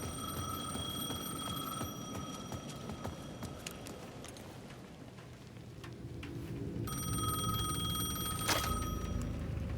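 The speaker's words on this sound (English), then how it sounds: "The payphone at the edge of the plaza was ringing again." A payphone rings at the edge of a plaza in Alan Wake 2, a faint electronic trill that repeats in short bursts over a low, murky ambient bed.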